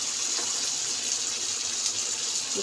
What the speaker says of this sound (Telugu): ఈ వేడి నీళ్ళు దాంట్లో పోసేస్తాను